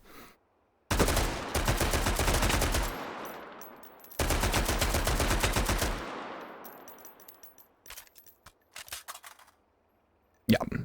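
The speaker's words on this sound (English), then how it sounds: "Let's blast this in full auto." AR18 rifle fired full-auto in Hot Dogs, Horseshoes and Hand Grenades: two long, loud, rapid bursts of a few seconds each, then a handful of short trailing bursts, close and without talk.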